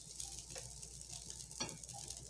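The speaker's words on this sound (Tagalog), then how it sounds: "Madali lang naman magluto ng sinangag." Fried rice (sinangag) seasoned with salt cooking in olive oil in a pan, giving a steady soft sizzle with occasional stirring scrapes, fairly faint and close, with no talking.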